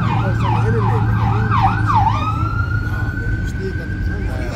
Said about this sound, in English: We got the ambulance over there.